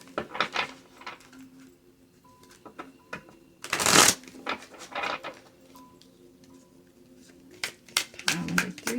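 Animal guidance oracle cards being shuffled by hand, a run of crisp riffling flutters with one loud burst of shuffling midway, close and fairly clear, with a quiet voice in the background.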